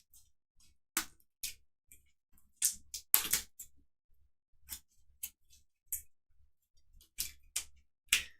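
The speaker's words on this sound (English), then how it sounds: "That is all shuffled." Cards are shuffled during a tabletop board game, Kingdom Death: Monster, making a series of crisp, close riffles and taps with short gaps between them.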